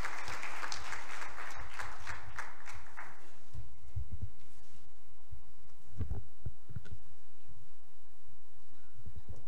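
Audience applause at the RSPIF 2019 inauguration session welcoming Nepal's Finance Minister, a dense burst of many hands clapping that fades after a few seconds, leaving scattered taps and low room rumble.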